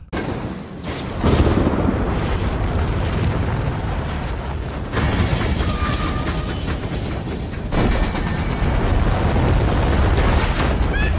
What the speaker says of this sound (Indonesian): secara tiba-tiba longsoran salju datang dari atas bukit